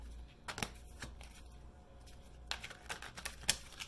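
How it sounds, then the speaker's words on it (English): Quick crisp riffles and taps of a tarot deck being shuffled, a few bursts close by with short pauses between. "I just always like to shuffle a little bit on screen."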